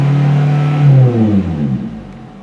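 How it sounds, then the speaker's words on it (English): A 2018 Toyota Corolla with a sport exhaust revs loudly and close, one strong throttle blip whose drone swells then sinks in pitch as the engine settles and fades. "One good thing about the sport exhaust, it makes you sound like you're going quick, even though you're really not."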